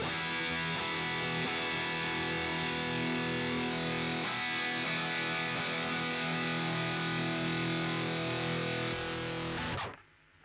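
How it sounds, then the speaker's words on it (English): Harsh, buzzy guitar distortion from the BYOD (Build Your Own Distortion) iOS app played with no impulse response loaded, a dense fizzy wall of sustained chords that holds steady for about nine seconds before cutting off abruptly. "this is the distortion you're going to get with Build Your Own Distortion without the IR on it"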